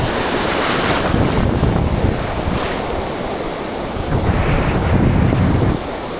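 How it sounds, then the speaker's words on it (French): Ocean waves surge and break on a sandy beach with sandbanks, a loud continuous wash with rising and falling swells, mixed with heavy wind buffeting the microphone; no one speaks. "normalement là c'est la plage"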